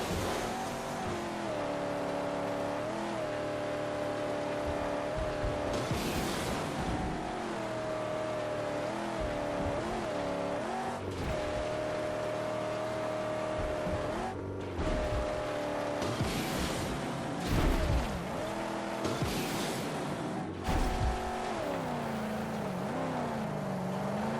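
Cars from the Mad Max video game driving across desert sand, with continuous engine drone that revs up and down, shifting pitch and brief bursts of louder acceleration over a long stretch.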